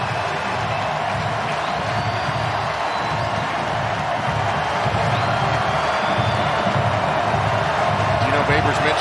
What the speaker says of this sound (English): It's really the first time we've heard this crowd get into it the entire day.